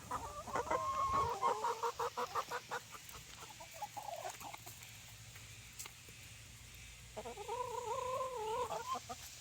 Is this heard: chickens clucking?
yes